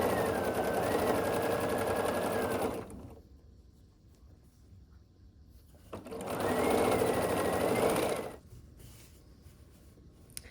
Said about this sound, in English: Now I'll match this seam here and then finish sewing across.